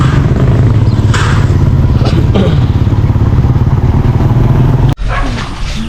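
A motorcycle carrying a rider and two passengers runs steadily with a loud, continuous engine drone, with a sharp bump or clatter near the end.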